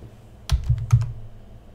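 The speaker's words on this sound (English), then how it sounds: "if I type something on the keyboard" A few quick keystrokes on a computer keyboard while typing a search into the Semplice Linux menu, three or four close clicks in a short burst, then quiet.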